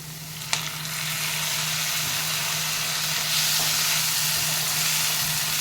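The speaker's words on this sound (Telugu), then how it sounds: "చాలా వరకు వేగినాయండి. ఇప్పుడు టమోటాలు వేసుకున్నాము." Tomatoes frying in a pan for a vegetarian liver fry, a continuous close sizzle and hiss with a single sharp clink near the start, steady throughout.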